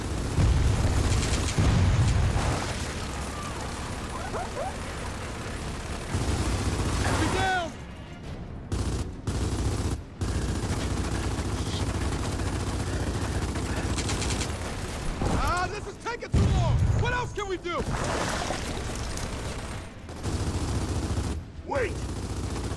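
Sustained gunfire shooting at scabs in a combat video game, a dense, continuous barrage of shots and booms with brief gaps, loud and close throughout, with voices talking over parts of it.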